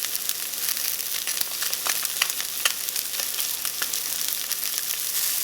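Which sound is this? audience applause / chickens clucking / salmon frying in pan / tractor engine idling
salmon frying in pan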